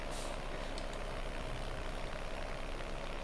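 Ursus tractor in a farming video game, engine idling with a steady low diesel rumble that runs continuously and fairly loud throughout.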